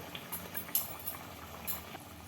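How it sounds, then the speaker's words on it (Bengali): Spice-bowl rinse water added to marinated mutton in a pot, giving a soft bubbling simmer with faint pops and light clinks, quiet and close. "আমি মশলার বাটি ধোয়া জলটা একটু দিয়ে দিলাম"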